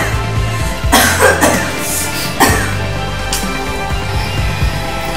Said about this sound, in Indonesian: Stop, jangan batuk sembarangan.